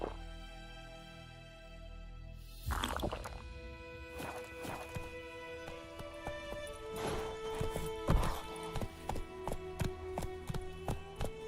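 Roach the horse in The Witcher 3 breaking into a trot, hooves clip-clopping in a quick, steady rhythm close up, with a faint voice at the start.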